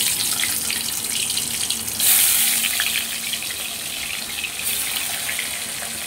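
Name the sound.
boal fish frying in hot oil in a wok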